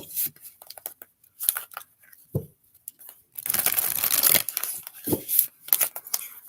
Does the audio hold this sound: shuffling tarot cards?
yes